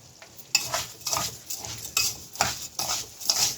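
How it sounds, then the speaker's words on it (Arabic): Rice is stirred in a pot for Egyptian koshari, with a steady series of about seven scraping, clinking strokes of a utensil against the pot, close and clear with no talk. "هقلب الرز شويه"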